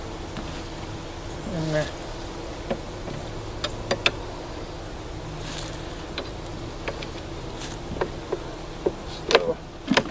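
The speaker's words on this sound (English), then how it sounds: "a good number of bees in there." Honey bees buzz around an opened Flow Hive honey box in a bee yard, a steady hum with occasional closer passes and small clicks of frames, while someone speaks briefly.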